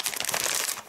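Plastic packaging of almonds crinkles up close, a dense burst of sharp rustling and crackling that lasts about a second, with no talking.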